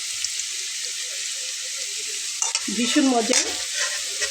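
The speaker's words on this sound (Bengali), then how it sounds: "আলুটা যখন এই মশলাটা দিয়ে ভাজা হবে, এত চমৎকার একটা সেন্ট বের হবে" Potatoes frying in spice masala and being stirred in a pan for a potato chicken dish. A steady close sizzle runs throughout, and scraping stir strokes rise near the end along with a brief spoken remark.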